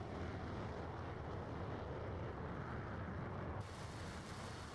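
AI aircraft taking off in DCS, a steady loud jet engine roar with a dense rumble that holds throughout, brightening slightly near the end.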